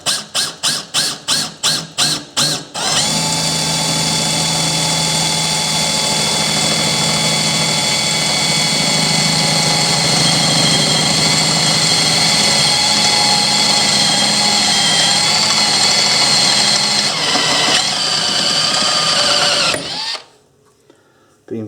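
A power drill bores into a sewing table lifter mechanism near a gas strut, opening with a few short trigger bursts, then one long, loud, steady whine for about seventeen seconds before cutting off.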